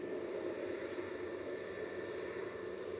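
A KLM Airbus A321neo departing Manchester Airport for Amsterdam gives a steady, distant roar of jet engines that stays level and faint throughout, with no one talking.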